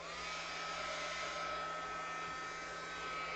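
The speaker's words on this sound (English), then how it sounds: "Let's heat gun it so we can get that to dry." A heat gun blows steadily on wet paint on a paper art project, a constant loud whooshing roar with a faint hum underneath, running unbroken and close.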